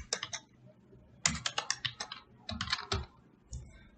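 Fast typing on a computer keyboard while naming a new Android Studio project, several clustered bursts of crisp keystrokes separated by brief pauses, close and clear.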